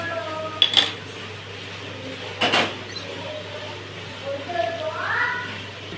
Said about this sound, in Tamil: நல்லா கலந்து விட்டு நல்லா மிக்ஸ் பண்ணிக்கலாம்